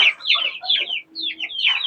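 Chicks fed a homemade feed mixture give rapid overlapping clucks and chirps, close and fairly loud, in short bursts with no speech.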